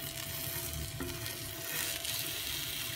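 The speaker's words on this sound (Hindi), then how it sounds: "इस मिक्सचर की पतली स्लेट मैंने इस पर फैला दी है, अब ये पक जाता है" Thin layer of batter made with leftover bread pakora spread on a greased tawa, cooking with a steady, soft sizzle and faint crackle throughout.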